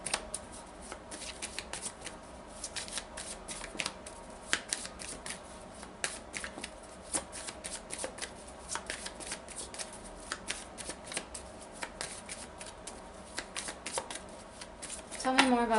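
Tarot cards are shuffled by hand in a steady run of quick riffling flicks and soft slaps, close and moderately quiet, going on for more than fifteen seconds with a voice speaking softly in the background.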